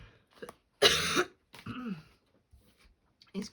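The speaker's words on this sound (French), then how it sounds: "je tousse encore un petit peu" A person coughs, with one loud harsh cough burst followed by a couple of softer throat-clearing sounds and faint breaths in an otherwise quiet room.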